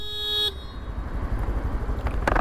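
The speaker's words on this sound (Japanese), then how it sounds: "クラクション差し上げましためっちゃ危ないですよ" A loud, steady car horn blares for about half a second at a car running a yellow light, then cuts off, leaving engine and road noise from a moving vehicle.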